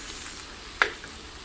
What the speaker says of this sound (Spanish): que chille la cazuela